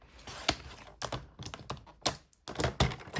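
Paper strip being cut for card making with a cutting tool, a run of sharp, close clicks and thunks at irregular intervals, alone with no talk.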